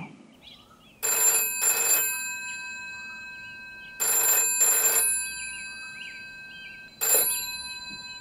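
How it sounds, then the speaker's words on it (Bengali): A telephone bell rings in bursts as a sound effect in a Bengali audio drama: two double rings, then a single ring, loud and clear against a quiet background. "এমন সময় ফোনটা বেজে উঠল"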